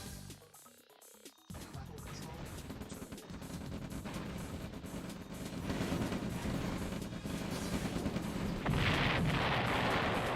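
Rifle fire crackles through a real-time strategy battle in OpenRA Red Alert, starting after a brief quiet and building into dense, continuous rounds that grow louder toward the end, with a voice talking over the combat.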